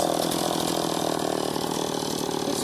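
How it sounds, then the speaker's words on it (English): A Stihl 260 chainsaw runs continuously while carving wood, a steady loud buzzing engine drone with slight rough fluctuations and no pauses. "this chainsaw is pretty heavy. It's a Stihl 260"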